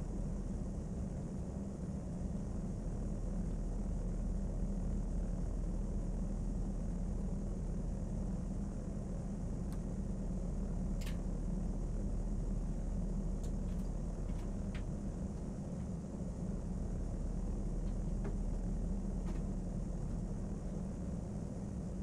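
An aircraft engine drones steadily on approach to landing in Flight Sim World, with a continuous broadband rumble and hiss that holds a constant level throughout, marked by a few faint high clicks.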